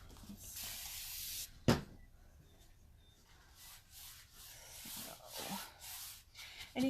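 A spray bottle mists water onto a wooden background board before painting, with several soft hissing bursts and a sharp knock partway through, close and fairly quiet.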